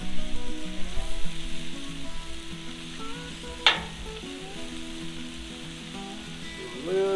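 Mushrooms spread out on a hot Blackstone griddle sizzle and crackle steadily, with a sharp scrape or clatter midway and another near the end, no talking.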